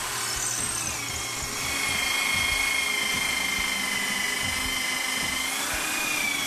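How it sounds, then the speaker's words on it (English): A power drill cuts out the gaps between a row of drilled holes while building an M95A1 rifle model, a steady close whine with shifting pitch and a grinding undertone, running continuously without talk. "I'm slowly going to change the pitch of the drill to actually cut out the gaps in between each of those holes"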